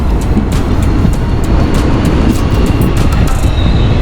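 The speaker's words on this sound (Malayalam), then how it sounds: "ഒരു ട്രെയിൻ വരുന്നു" A train arrives at a railway station on the Subrahmanya to Mangalore line, a loud, continuous low rumble of wheels and engine, close by, with faint high squeals above it.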